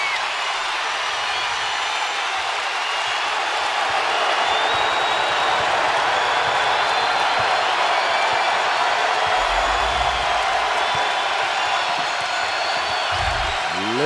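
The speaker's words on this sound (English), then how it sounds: "Listen to this crowd" Dense, loud roar of a basketball arena crowd cheering steadily throughout an NCAA tournament game between Florida and Texas Tech, with a commentator's voice faintly over the din.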